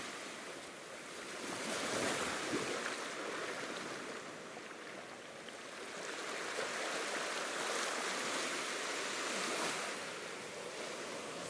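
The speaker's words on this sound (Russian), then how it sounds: "Вот такой херикетия бич." Surf washing onto Hiriketiya Beach in Sri Lanka, a clear-water bay with pebbles on one side, with steady broadband wash that swells and recedes in slow surges, fairly close and continuous with no talk.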